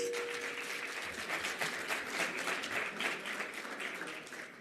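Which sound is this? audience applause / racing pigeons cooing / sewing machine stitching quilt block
audience applause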